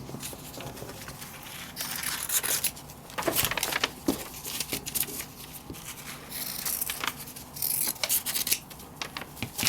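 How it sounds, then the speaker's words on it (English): Scissors cut a small circle out of flannel fabric for a baby bib, making soft, quiet snips and rustling scrapes in irregular bursts, close up. "then I'm going to cut that little circle out"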